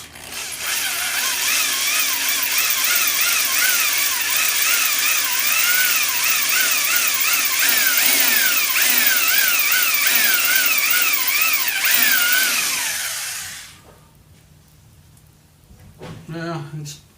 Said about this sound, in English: I'm going to drill these a few more times